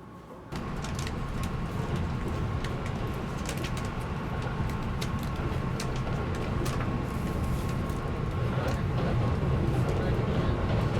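A Japanese limited express train bound for Demachiyanagi rolls along with a steady low rumble and rhythmic clicks of wheels over rail joints, heard from inside the carriage under a constant hum.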